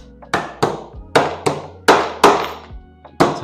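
A hammer taps a paint can lid shut with seven or eight sharp, close knocks in an uneven rhythm, each one ringing briefly before the next.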